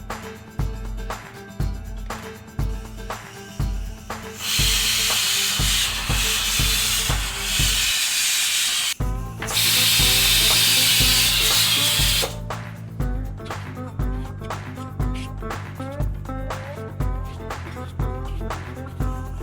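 A pressure cooker on the stove cooking dal, its weight rocking in a rapid rattling rhythm broken by two long, loud bursts of hissing steam, close up and with no talking.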